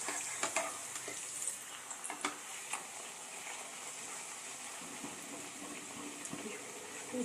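Mangalore buns, a sweet fried bread, sizzle and bubble steadily in hot oil over low heat, with a dense, continuous crackle and scattered sharper pops.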